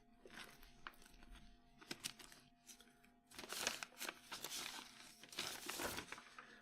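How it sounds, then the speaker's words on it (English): Bits of paper shuffled and crinkled during a lunchtime live music stream, giving soft, irregular rustling and crunching bursts that are close but quiet, with no talking. "Shuffle, shuffle, shuffle with the bits of paper."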